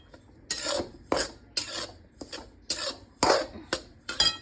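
Semolina stirred and roasted in ghee in a pan for laddoos, heard as a series of about nine sharp, raspy scraping strokes at a steady rhythm, close and fairly loud with quiet gaps between them.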